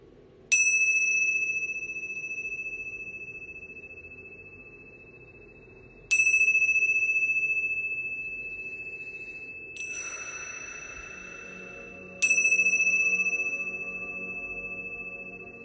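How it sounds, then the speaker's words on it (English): Clear bell tones ring out during a Reiki healing session: four separate bright strikes spaced several seconds apart, each ringing on with a long, slowly fading tail in a quiet room. "Let's do the bells. Oh, they have such a beautiful sound."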